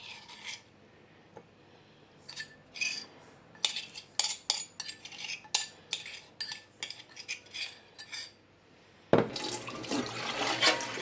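Soaked curry leaves get washed by hand in cold water in a bowl, with irregular splashes and clinks of utensils, then running tap water gushes steadily at the end.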